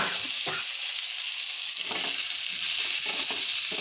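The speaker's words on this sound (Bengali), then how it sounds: "এখন দিয়ে দেবো আলুটা।" Salted fried potatoes go into a frying pan of hot oil and raise a loud, dense, steady sizzle, broken by a few dull knocks as the potatoes drop and are moved around.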